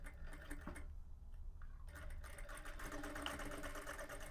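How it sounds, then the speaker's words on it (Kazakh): A sewing machine stitches elastic into a bed sheet with a low, quiet, steady mechanical whir that pauses briefly and then resumes. "Екеуін бірінің үстіне бірін қойып, закрепка беріп, осы жерді тігіп жүреміз қазір резинкамыз"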